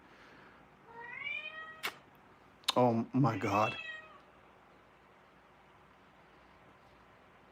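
A pet cat gives a drawn-out, rising meow, then a short burst of chattering meows a moment later, close and clear, with a person speaking briefly between the calls.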